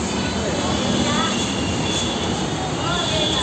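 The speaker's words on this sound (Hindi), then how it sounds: "हम मेट्रो स्टेशन पहुंच चुके हैं। अभी हम जा रहे हैं मेट्रो के लिए, मेट्रो लेने वाले हैं" A metro train rumbles steadily at a metro station, a loud, continuous rolling roar with faint wheel squeal and rail clatter.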